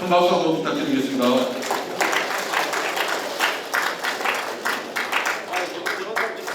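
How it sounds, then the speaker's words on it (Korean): Audience applause at a regional development meeting, a crowd of hands clapping steadily throughout with a voice speaking at the start. "예, 큰 박수 한번 부탁드리겠습니다."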